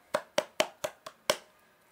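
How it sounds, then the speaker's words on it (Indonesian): Six sharp hand claps in a short, slightly uneven run, close and clear with no talking, given as applause in a primary school class. "Beri tepuk tangan untuk kita semua."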